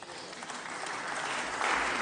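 Lawmakers in the French Senate chamber applaud, a continuous dense clatter of many hands that builds slightly louder toward the end, with no clear talk over it.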